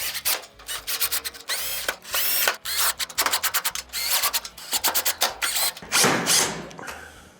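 Power screwdriver driving screws into a Whirlpool stove panel, heard as repeated short whirring bursts with brief gaps, close and fairly loud, with no talking.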